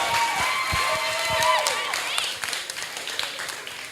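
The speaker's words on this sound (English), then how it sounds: "Big round of applause for Peter." An audience at a nerd night talk event claps and cheers loudly, then the applause thins out and fades over a few seconds.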